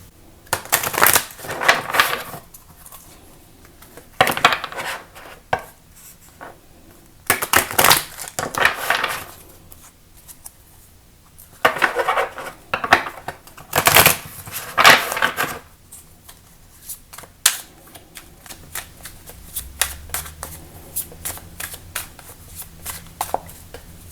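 Oracle cards are shuffled by hand in bursts of riffling and slapping, with several loud crisp flurries separated by quieter pauses, close to the listener and with no talking.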